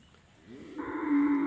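A high-yielding dairy cow lows once at a cattle sale, a faint moo that swells and holds steady over a quiet background.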